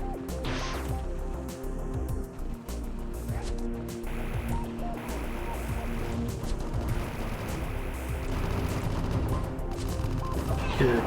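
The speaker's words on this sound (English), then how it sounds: "Hear gunfire in the distance." Rapid gunfire crackles in the distance in the Metroid 2 remake video game, a dense, continuous barrage of shots and impacts that keeps on steadily over game music and ambience.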